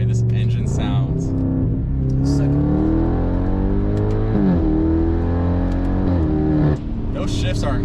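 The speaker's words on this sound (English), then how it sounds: "But I'm just in love with the way this engine sounds." A BMW 550i F10 engine pulls hard through several gear shifts, its deep droning pitch climbing steadily and dropping sharply at each upshift, loud and close, with someone talking over it.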